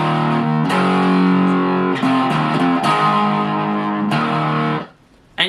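A loud distorted electric guitar plays a chugging power chord riff, with several chord changes, then cuts off abruptly near the end.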